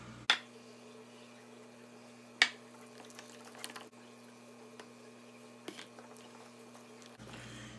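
Homemade shrimp food ingredients dumped into a mixture, giving a few sharp wet splats and squishes, two loud ones early then softer plops, against a quiet background hum.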